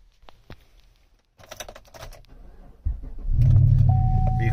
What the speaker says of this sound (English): let's just start this vehicle up real quick